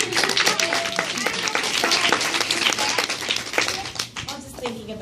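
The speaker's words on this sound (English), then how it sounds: "So clap it up for you." A seminar group applauds themselves in a class, with several hands clapping unevenly nearby under a few voices and cheers before it thins out.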